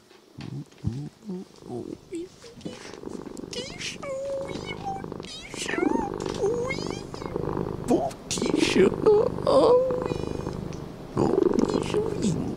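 A house cat purring while being petted by an intruding neighbour, a low rhythmic rumble running under a man's speech that includes playful vocal imitations of cat sounds, fairly close.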